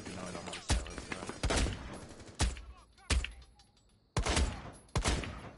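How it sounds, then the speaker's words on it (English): Gunfire in the video game Rainbow Six Siege comes as about seven sharp, loud shots in irregular bursts, each with a short decaying tail, with faint talk between them. "Oh, here we both start shooting his butt."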